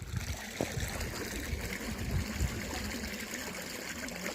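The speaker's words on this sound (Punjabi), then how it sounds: "ਪਾਣੀ ਟੁੱਟ ਗਿਆ" Steady running water trickles and gurgles through a field irrigation channel in Punjab, a continuous low wash with small splashes, fairly close.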